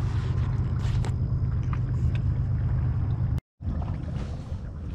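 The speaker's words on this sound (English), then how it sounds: "there's a barge going downriver" A barge travelling downriver, heard from a riverside goose-hunting spot as a steady low engine drone and water wash that holds loud throughout, with a brief dropout near the end.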